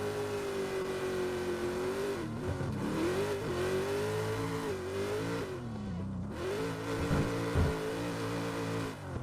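An A90 Supra and a Mustang drifting in a racing sim competition produce a sustained, buzzy engine drone whose pitch holds, dips and climbs again as the cars rev through slides, with brief tire-squeal bursts and no talk.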